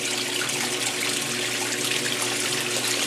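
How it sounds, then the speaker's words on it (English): The last of the water drains out of a 1996 Maytag Dependable Care Plus washing machine on a quick cycle, a steady, continuous watery rush and trickle with no break. "Last few driplets of water are coming out, which is good."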